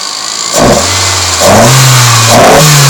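A Toyota MR2 AW11 engine with individual throttle bodies and sharp, crisp throttle response revs three times in quick succession, each blip rising and falling loudly up close.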